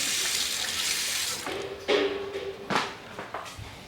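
A strong stream of water runs from a tap in a campsite bathroom, a steady rushing hiss for about a second and a half before it cuts off, followed by a few scattered knocks and clunks.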